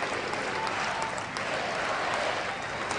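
A huge crowd of about 7,000 young people at a meeting with Pope Francis in Lisbon applauds, a broad, continuous roar of clapping heard from a distance, even and unbroken throughout the short stretch.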